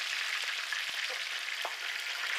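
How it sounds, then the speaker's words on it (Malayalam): Chopped green chillies and curry leaves fry in a pan as they are stirred, giving a faint, steady sizzling hiss with a few soft scrapes and clicks and no talk. "ഇതെല്ലാം കൂടി ഇട്ട് നന്നായിട്ടൊന്ന് ഇളക്കി കൊടുക്കണം"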